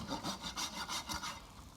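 A hand rasp files down a horse's hoof in a run of about seven quick, rhythmic scraping strokes, close and moderately quiet, with no talking.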